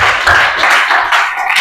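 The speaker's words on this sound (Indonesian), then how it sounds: "Tepuk tangan dulu." Applause from a class, a burst of hand clapping that fills the moment densely and steadily, with no talking over it.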